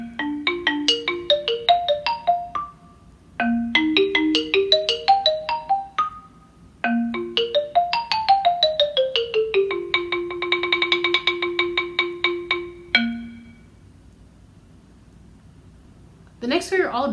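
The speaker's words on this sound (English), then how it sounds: "The xylophone, which many of you have probably played." A mallet instrument plays quick descending runs of bright, short notes in repeated phrases, with a rapid tremolo on one pitch and brief pauses between.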